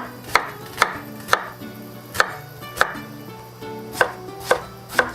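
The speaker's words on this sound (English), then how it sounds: "Now first let's chop our onion." Knife chopping an onion on a cutting board while preparing chicken tetrazzini, nine crisp, close, separate thuds spaced unevenly at roughly half-second intervals over a quiet kitchen background.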